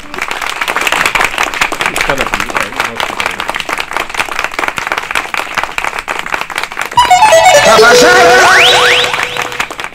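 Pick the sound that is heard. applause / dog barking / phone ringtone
applause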